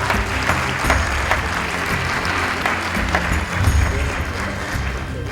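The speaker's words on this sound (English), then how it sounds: "Give him a warm round of applause." Steady applause from a crowd at an award presentation, a dense patter of many hands clapping throughout.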